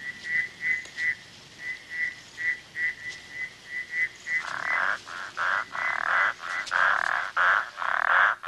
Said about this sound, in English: About 20 different kinds of frogs will breed at night in this pond.